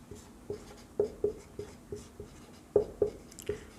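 Chalk or marker tapping and scraping on a board during a classroom lesson, a steady series of short strokes about every quarter second, close and moderately loud.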